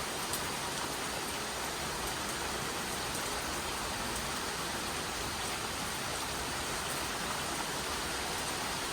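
Heavy rain pours steadily over a backyard garden in the Arizona low desert, a dense, even hiss of drops on surfaces that stays loud and unbroken throughout with no voices.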